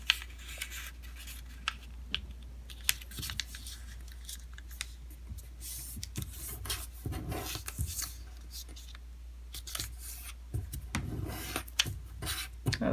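Origami paper is folded horizontally in half, giving soft, close rustling and rubbing with a few sharp crinkles and creasing scrapes at a quiet level.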